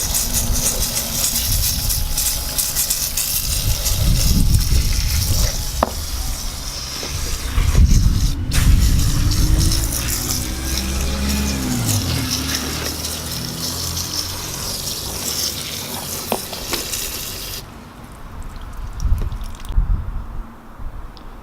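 Water gushes and splashes steadily as a K&N air filter from a Focus RS is rinsed all the way around, a continuous close rushing stream with a change in tone near the end.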